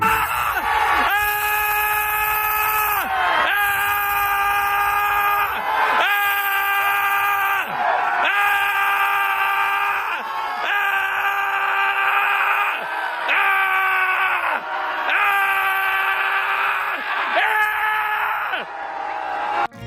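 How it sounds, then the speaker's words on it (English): A group of people stand outside a conference center in a public park and scream at the top of their lungs together, long loud sustained wails repeated in waves with brief gaps between them. "stood outside of the conference center in a public park and started to scream at the top of their lungs"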